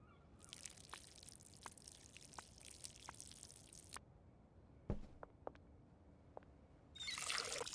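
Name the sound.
watering plants in video game Schedule 1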